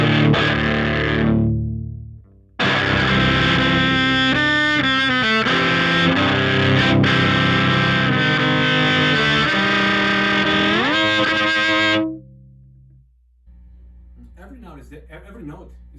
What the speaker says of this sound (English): I can also play chords on the cello with the bow while still keeping enough clarity.